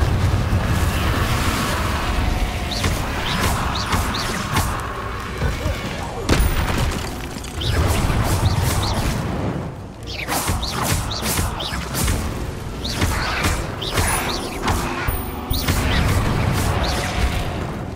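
Fiery spell blasts from the Confringo curse in the game Hogwarts Legacy erupt in repeated booming explosions, several heavy bursts in quick succession amid other combat spell effects, loud and close, with occasional speech over them.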